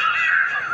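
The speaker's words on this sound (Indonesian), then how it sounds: "Burung." A crow gives a single loud, drawn-out harsh caw, close and clear with nothing else around it.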